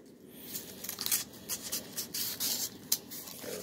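Paper mail envelopes being torn open by hand, a run of short crackling rips and rustles at close range with brief pauses between them, no talking.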